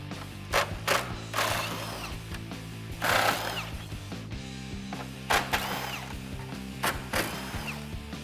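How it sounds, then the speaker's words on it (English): Ratchet wrench with a 10mm deep socket removing bolts on a 2019-2021 RAM 1500 while headlights are fitted, giving bursts of rapid clicking in several separate spells, close up, amid mechanical clatter. "now you can grab your 10mm deep socket and start taking these 10s off"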